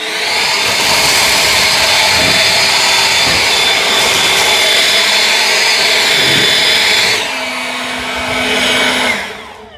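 An EGO Power+ LB7650 cordless leaf blower running on turbo, a loud steady high-pitched whirring roar close by that shifts pitch near the end, then winds down abruptly.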